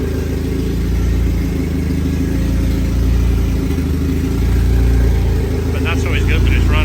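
A supercharged Honda K24 engine runs at a steady idle, a loud, close, continuous low drone with a brief voice near the end.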